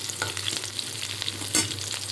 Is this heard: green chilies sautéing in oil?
yes